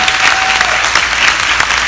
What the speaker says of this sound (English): Give yourselves a round of applause when you done it.